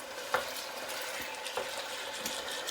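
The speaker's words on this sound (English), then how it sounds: "we're giving it a stir so that it doesn't burn and stick" Chicken pieces sizzle in a hot pan as a spoon stirs them in a few distinct scraping strokes over a constant frying hiss, close up and moderately loud.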